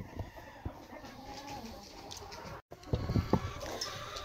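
A rooster and hens cluck in a coop before feeding, with short scattered clucks and calls up close, a brief silent gap, then a busier burst of clucking.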